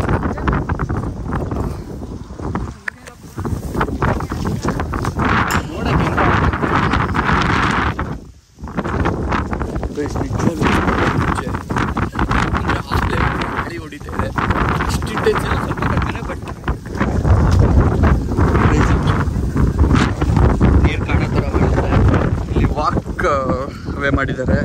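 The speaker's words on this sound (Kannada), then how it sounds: "ಗಾಳಿ ಹೊಡಿತಾ ಇರ್ತದೆ ಪ್ರತಿ ಸರಿ." Wind gusting across a bridge, buffeting the microphone in loud, rough, continuous rushes broken by a brief lull, while people talk over it throughout.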